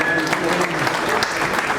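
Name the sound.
audience applause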